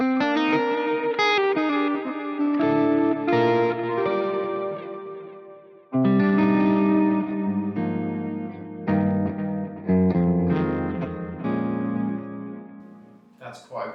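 Clean electric guitar through a Fractal amp modeler on a Claymore patch, strummed chords and picked notes ringing out with some ambient effect, close and fairly loud, in two phrases with a short break.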